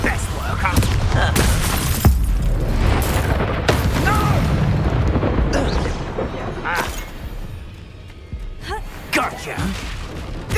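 Expulso blasting spell in Hogwarts Legacy: loud booming explosions with shattering debris and crackling bursts, several impacts spread across the span amid chaotic combat effects, with voices speaking over parts of it.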